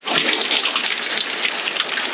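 Hail pounding on the roof of a caravan while camping in Australia, a dense, loud, continuous drumming patter heard close from inside without a break.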